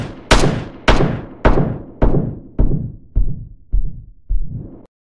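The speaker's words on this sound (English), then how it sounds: "A low pass filter lets through only the low frequencies." Eight evenly spaced video game gunshots passed through a low pass filter, muffled thumping bursts with dull tails, each one fading in brightness.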